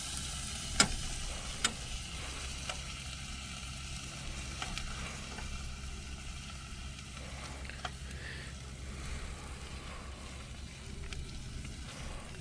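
Bacon fries in a pan outdoors by the sea, with a steady soft sizzle and occasional small ticks and pops, quiet and continuous with no voices over it.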